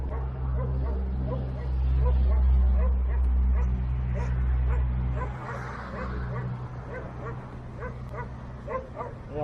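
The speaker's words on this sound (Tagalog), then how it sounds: "Aso." Dogs bark and yip on a mountain road near Taif, Saudi Arabia, repeated barks and whimpers over a constant low vehicle rumble, with people talking nearby.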